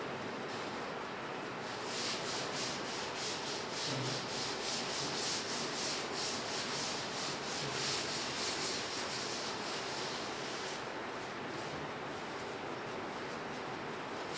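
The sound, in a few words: duster wiping a blackboard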